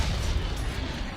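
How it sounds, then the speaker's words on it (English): An explosion in The Terminator (1984) rolls out as a dense, low rumbling blast that stays loud across the brief moment. "Man, I love explosions."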